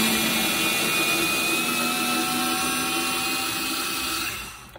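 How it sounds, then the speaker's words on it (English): A small cordless electric screwdriver whirs steadily while backing out long screws from a Lutron light dimmer switch, a continuous close motor hum that winds down at the end, with no talking. "I'm actually just gonna use the automatic little thing I have here. It makes the job easier."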